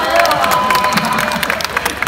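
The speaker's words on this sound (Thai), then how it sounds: "กองเชียร์สาววัยรุ่นแห่งเขตบางกอกใหญ่" A squad of teenage girls cheers at a friendly football match in Bangkok Yai, shrill voices and rhythmic clapping layered over a busy crowd din.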